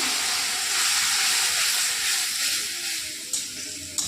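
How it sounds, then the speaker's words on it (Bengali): Spice paste of cumin, turmeric, chili and Kashmiri chili powders with ginger-garlic paste hisses loudly in a pan as water goes in for a rohu fish kalia, a steady close sizzle that eases slightly toward the end. "জলটা দিয়ে দেবো। ভালোভাবে মশলাটা কষিয়ে নেব।"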